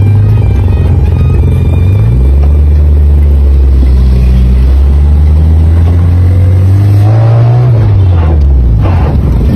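A loud motorcycle-like engine revs up and down repeatedly, pitch rising and falling with strong low rumble, close by and continuous.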